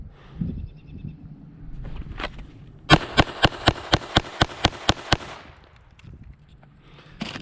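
Ten handgun rounds drawn from concealment and fired at a 4x6 target on a shooting range, sharp evenly spaced reports in a quick steady string, loud and close, with faint shuffling before and after.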